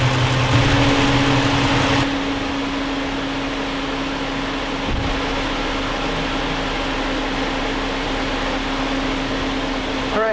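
An electric radiator fan on a 2001–2004 Jeep Grand Cherokee 4.7L, converted from hydraulic, whirs steadily at close range with the engine shut off, a continuous broadband rush with a faint hum, louder for the first two seconds.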